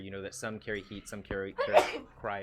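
A single sharp sneeze bursts out amid ongoing conversation during a cyberpunk role-playing game session, loud and brief, with talking before and after it.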